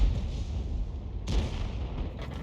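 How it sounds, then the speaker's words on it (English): A 21cm howitzer fires in a tank video game, a single booming report with a sharp onset about midway, over a low rumbling background. "he's using the 21cm howitzer, which is capable of 900 alpha"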